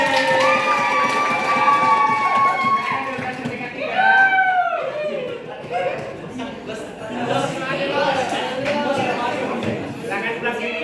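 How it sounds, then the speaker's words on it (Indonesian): Students at a high school debate selection event clap and cheer together, a dense, steady crowd roar of applause and shouts with excited voices rising over it throughout. "Tepuk tangan."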